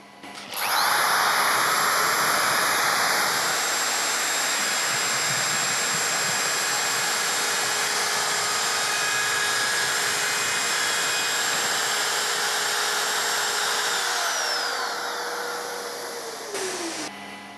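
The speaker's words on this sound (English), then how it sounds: "we apply the extraction unit, and then we put in the plug-it cord, and now we're ready to trim the edging." A Festool OFK 700 edge router trims edging on a Conturo edge bander setup with its extraction unit running, a loud steady high whine holding for about fourteen seconds before winding down, with no talk.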